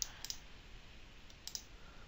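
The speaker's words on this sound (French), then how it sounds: "là, je vais cliquer sur Play." A computer mouse clicks on Play in Unity, giving a few faint, sharp clicks in quick pairs against a quiet room, with no talk.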